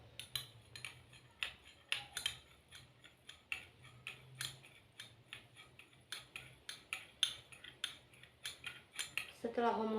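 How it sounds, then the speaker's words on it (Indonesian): Spoon clinking against a glass container while stirring liquid detergent with water, giving a steady run of sharp, close taps and scrapes throughout, with no talking. "lalu kita aduk sampel deterjen cair ini dengan air"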